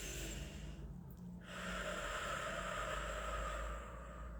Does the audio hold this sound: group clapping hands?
no